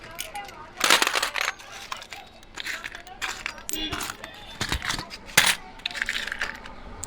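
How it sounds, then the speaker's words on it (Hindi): Old coins from a collection are handled and rattled, with metallic clinks and jingles recurring through the clip while people talk nearby. "ये बाबा आलम के ज़माने के सिक्के।"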